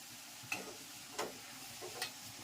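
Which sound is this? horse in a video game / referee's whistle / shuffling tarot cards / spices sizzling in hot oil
spices sizzling in hot oil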